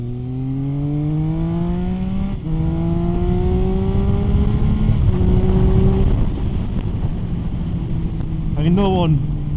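A Triumph Speed Triple 1050 motorcycle accelerating in first gear, its engine pitch climbing loud and close in repeated rising sweeps with short shift-like breaks, wind noise rushing beneath.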